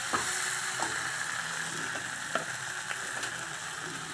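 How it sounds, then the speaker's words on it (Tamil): Food sautéing in a pan while a home curry is cooked, a steady close sizzle and crackle with occasional light stirring scrapes and ticks, no talking. "நல்லா வதங்குது."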